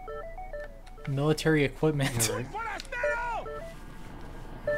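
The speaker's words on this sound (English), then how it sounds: "my phone's been going off with all these notifications I've been getting" Electronic phone notification beeps from the video game Resident Evil 4: short steady tone pairs at the start and again near the end, with a voice talking through the middle.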